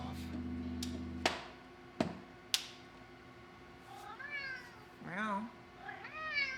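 Indoors, a few sharp knocks sound first, then a house cat gives several rising, drawn-out meows, fairly close but quiet, spaced out over a few seconds.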